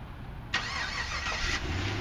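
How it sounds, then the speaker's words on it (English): A 2012 Chevrolet Camaro 45th Anniversary started by remote start: after a brief quiet the engine cranks and catches with a sharp burst, then settles into a steady idle rumble close by. "All right, let's use the remote start here."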